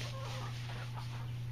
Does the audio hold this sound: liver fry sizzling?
no